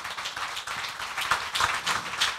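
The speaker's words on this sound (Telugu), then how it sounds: "చప్పట్లు కొట్టి దేవుని మహింపరుద్దాం." A church congregation claps hands in praise, a steady dense patter of many hands at moderate distance running throughout, with a louder burst at the very end.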